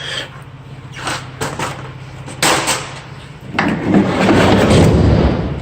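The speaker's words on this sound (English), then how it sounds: "Door opens and closes as well." A 2017 Ford Transit T-250 cargo van's door clunks open and later thuds shut, with a low engine-like hum and rustling broadband noise toward the end.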